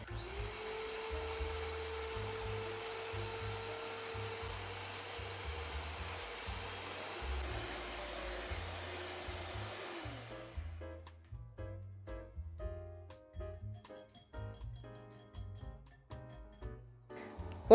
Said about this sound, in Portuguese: Agora eu vou bater 2 claras de ovo.